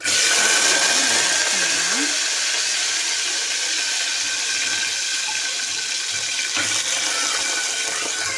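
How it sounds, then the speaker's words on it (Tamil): Mustard seeds spluttering in hot oil while cooking a Tamil black chana dal kulambu with potatoes, a steady loud hissing crackle running throughout, with faint voice fragments underneath. "கடுகு பொரிய ஆரம்பிச்சிருச்சு"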